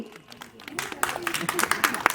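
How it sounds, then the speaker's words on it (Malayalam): A mall crowd claps to welcome an actress onstage, scattered claps quickly building into close, busy applause while a voice talks over it. "ഇത്ര കയ്യടി മതിയോ?"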